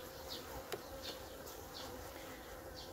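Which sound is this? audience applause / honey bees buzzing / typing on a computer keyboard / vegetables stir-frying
honey bees buzzing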